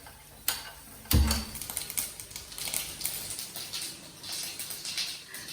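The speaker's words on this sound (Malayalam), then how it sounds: "കടുകൂടലാണ്" Mustard seeds sputter in hot oil on a high flame, making irregular, fast crackling pops and ticks close by, with a heavier thump early on and steady spitting after it.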